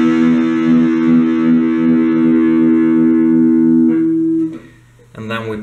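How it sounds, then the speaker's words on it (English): A single distorted electric guitar chord is picked once and left to ring loud and steady for about four seconds, then fades as new picking starts at the end. "And then we pick the first chord once and let it ring."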